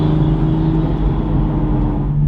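Manual Toyota Supra fitted with a carbon fiber Armaspeed intake, its engine giving a loud, steady low droning rumble close by, holding a constant note through the moment with no one talking.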